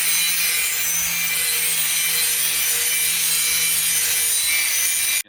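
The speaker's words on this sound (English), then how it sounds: "Get the other side just to give it a quick sharpen." A rusty old brush hog mower blade being sharpened, a loud, steady grinding rasp that runs continuously and close up for about five seconds before cutting off abruptly, with no talking.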